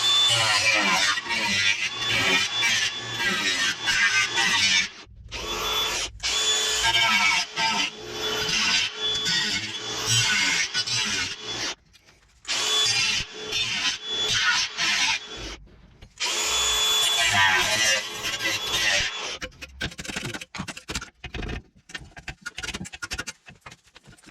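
A power grinder works on a brake part of a Mercedes-Benz W124 coupe during a brake upgrade, where the disc hits the handbrake parts. Loud, close grinding comes in long bursts separated by brief pauses, ending in shorter, choppier passes.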